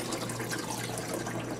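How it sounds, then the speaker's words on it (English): Water poured into a countertop ice maker makes a soft, continuous splashing trickle, faint and steady with no talk. "When you pour the water in"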